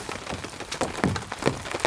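Heavy rain blows against a camping tent in irregular gusty bursts, drops pattering and slapping the fabric close by, loud and continuous with no talk.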